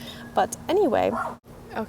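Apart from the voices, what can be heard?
dog barking outside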